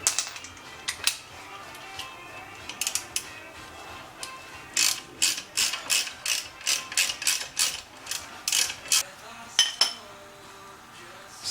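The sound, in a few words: 3/8 ratchet removing brake dust shield bolts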